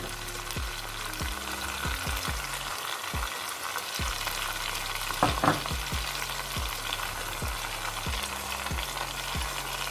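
Three kinds of bell pepper frying for vegetable noodles, a steady close sizzle with repeated rhythmic scraping and tossing strokes of a spatula in the pan, no talking.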